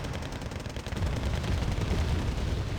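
Bombing run in Wargame: Red Dragon, a loud rolling barrage of dense explosive cracks and booms that swells and sustains across a few seconds with no voices.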